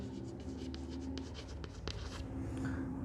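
A pen writing an entry in accounting notes for a sole trader's final account, with soft scratchy strokes in short bursts over a steady low room hum, close and quiet, no speech.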